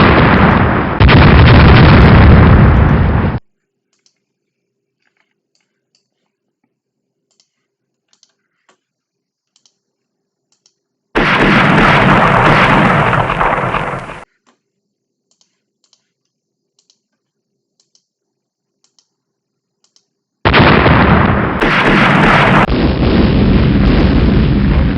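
Turrets exploding in a video game, heard as three loud blasts a few seconds long, separated by near-silent gaps and carrying a faint, rapid clicking between them.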